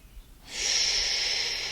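A voice imitating snoring with one long, loud, raspy breath, a hissy airy rush held for over a second after a brief quiet lead-in.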